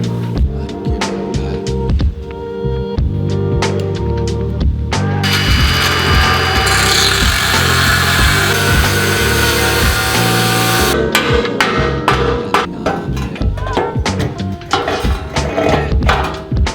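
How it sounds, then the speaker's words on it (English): An angle grinder grinds down the steel faces of a 4WD rear bar, a loud continuous whine with rough metallic grinding that surges in the middle, mixed with clanks and ratcheting mechanical knocks. "I'll grind the faces down"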